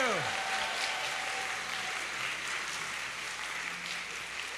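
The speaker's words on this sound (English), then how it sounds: "Can we give him one more round of applause?" A church congregation at a worship service giving a round of applause, steady broadband clapping that fills the room, moderately loud and sustained throughout.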